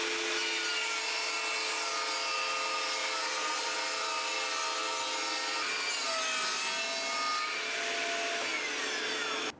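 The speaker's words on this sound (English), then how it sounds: "I'm gonna use the table saw to rip a strip off the other side" A table saw ripping a strip off a piece of wood, with a steady high whine and grinding cut held throughout, close and loud.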